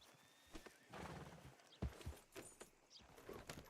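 A horse in the WildWestRP video game whinnies and its hooves clip-clop nearby, quiet and intermittent, with no talk over it.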